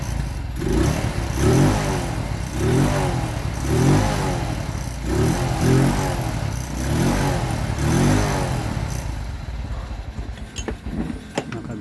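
Motorcycle engine idling after a timing chain and gasket replacement, a steady close mechanical chug with regular pulsing rhythm that settles and fades slightly toward the end.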